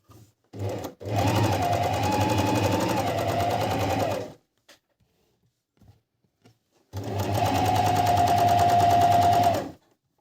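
A Family 8000w domestic sewing machine runs in two loud, steady stitching bursts of about three seconds each, separated by a quiet pause with faint handling noises.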